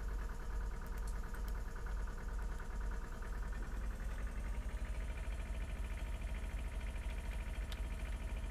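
A tractor engine in the video game Farming Simulator 2013, pulling a cultivator, drones steadily at a low, even pitch throughout, quiet and unbroken.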